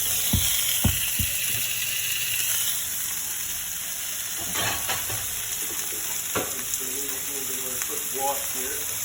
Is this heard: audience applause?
no